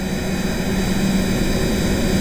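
A steady, loud turbine whine with a constant roaring hum, unchanging throughout.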